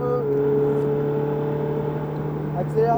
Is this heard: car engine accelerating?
yes